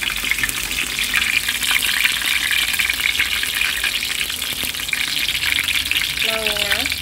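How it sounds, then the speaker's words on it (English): Curry leaves sizzle in hot oil in a pan while peanut rice is being made, a steady loud crackling fry that runs the whole time, with a brief higher tone near the end. "And fry little curry leaves also."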